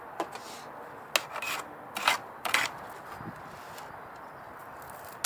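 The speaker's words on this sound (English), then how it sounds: "trimming the roots is not just getting rid of the longest parts" Japanese maple roots being trimmed with scissors: a handful of sharp, brief snips scattered over soft rustling, close and fairly quiet, with no talking.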